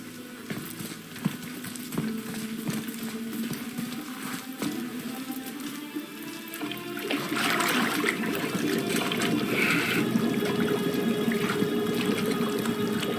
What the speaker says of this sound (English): Now, hold his head under the water and don't let go.